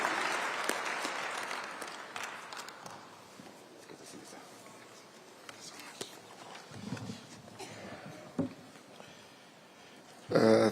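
A conference audience at an investment event gives a minister a warm round of applause, which fades into quiet murmuring and rustling. A voice speaks briefly at the very end.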